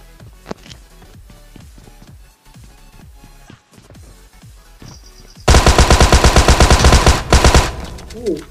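PUBG Mobile automatic gunfire from a multiplayer match: after quieter game sounds and scattered footsteps, a loud, rapid burst of machine-gun shots rattles continuously for about three seconds, then breaks off.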